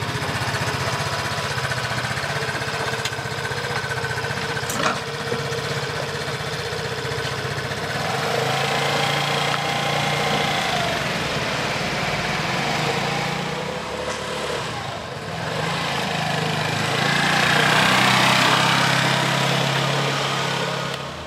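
A Vespa Primavera 125 scooter, Disney Mickey Mouse edition, pulls away under steady engine drone with wind and road noise, the buzz swelling slightly toward the end; no talking.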